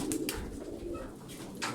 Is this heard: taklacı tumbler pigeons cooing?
yes